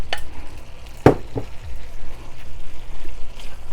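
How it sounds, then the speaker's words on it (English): Sausage and its drippings sizzle in a pan of frying cabbage, with a steady crackle throughout and one sharp clatter of the meat going in near the middle, no talking. "I'm going to go ahead and add the sausage in with all the drippings."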